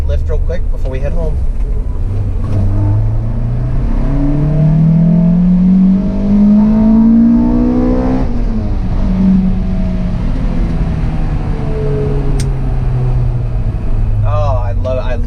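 Toyota Celica GT-S engine revving hard and accelerating through rising and falling gear pulls, loud and close, with brief talk near the end.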